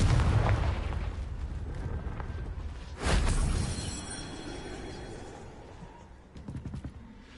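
The Confringo fire spell exploding in the video game Hogwarts Legacy: a deep boom at the start, then a second loud blast that rumbles and fades slowly, with a smaller crackling burst near the end.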